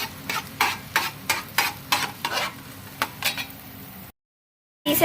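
Egg fries in hot oil for egg fried rice while a utensil stirs it in quick, regular scraping strokes over a bright sizzle. The sound is close and loud, then drops to a brief silence before one final clatter.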